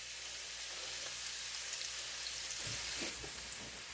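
A hamburger with onions sizzles on a George Foreman grill, a dense steady hiss of frying throughout, close up with a few faint clinks near the end and no voices.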